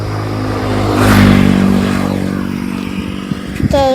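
A motorcycle engine on an island road roars up loudly and close, holding a rough revving drone before easing off, with a brief clatter near the end.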